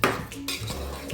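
A spoon stirring okra sambar in a pot, short clinks and scrapes of metal against the pot, close and brief with no voices.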